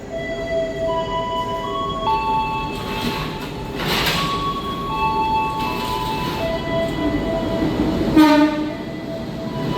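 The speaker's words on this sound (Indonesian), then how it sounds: "Kereta api Kertanegara masuk stasiun Kutoarjo teman-teman." The Kertanegara passenger train rumbles steadily along the tracks as it pulls into Kutoarjo station, with sustained horn tones sounding several times over the rolling noise.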